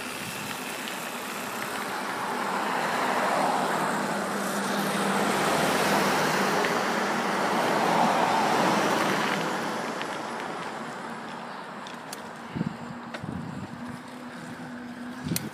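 A car passing on a street, heard from a moving bicycle as a broad rushing swell that rises and fades twice over steady wind noise, fairly loud and close, with no talking.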